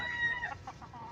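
A fighting rooster kept on a farm with calamansi and other trees gives a short squawk followed by a few quick clucks, close by and fairly quiet, with no talk.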